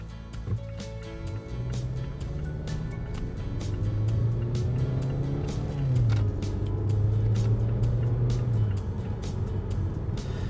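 A 2018 Mazda CX-5 Grand Touring FWD 2.5 engine revs up at about 30% throttle in a 0 to 60 run and climbs through the gears, the drone rising and holding steady, heard from inside the cabin with no one talking.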